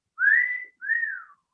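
A man whistles in imitation of a young boy, two rising-then-falling tones, each about half a second, close and clear with no other sound around them.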